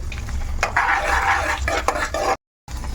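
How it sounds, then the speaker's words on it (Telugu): Cashews frying in oil in a pan while a spoon stirs them, giving a loud close sizzle with scraping, clinking stirs against the metal, then a brief silence. "ఇప్పుడు జీడిపప్పు వేగిందమ్మా"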